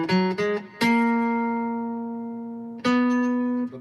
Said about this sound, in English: So the major scale would sound like this.